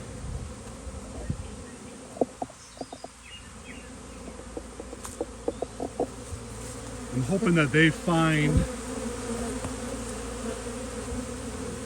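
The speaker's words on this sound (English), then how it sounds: "You see that there's a whole bunch of bees here now that are looking for their hive." Honey bees from an open-air swarm buzz around a trap box, a steady hum close by with a few individual bees droning louder past the microphone, while someone speaks briefly.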